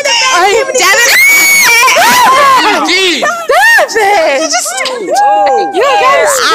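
Excited high-pitched screaming and shrieking at a school pep rally, many young voices rising and falling in loud overlapping bursts with some laughter mixed in, close and continuous.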